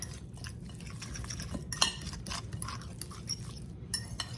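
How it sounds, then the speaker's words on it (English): A fork scrapes and clinks softly against a bowl while mixing salt, pepper and seasoning, with light irregular taps and a faint background hiss. "We're going to give that a little mix with our fork."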